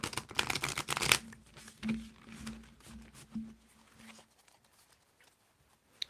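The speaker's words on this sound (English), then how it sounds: "Thick cards are hard to shuffle." Thick tarot cards riffle loudly in a fast shuffle for about a second, followed by softer rustling and taps that fade to near silence.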